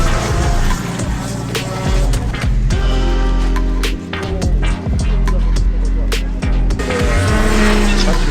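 A race car on new tyres during a free practice session at the Trophée Gangeois 2024 event. The engine drones loudly and close throughout, its pitch shifting with gear changes, with tyre and road noise layered over it.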